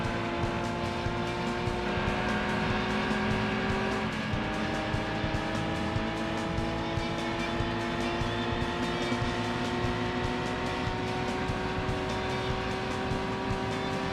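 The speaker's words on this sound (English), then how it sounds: "this Mugen Beat is all about speed when it comes to K cars" Mugen Beat K-car racing in Gran Turismo 2, a steady high-revving small engine droning continuously with a brief shift partway through, loud and close throughout with no talking.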